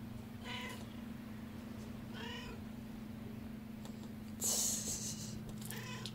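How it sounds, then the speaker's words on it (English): A cat meows repeatedly outdoors, four or five separate calls spaced a second or two apart over a steady low hum, with a brief louder burst of noise near the end. "How long will you meow for?"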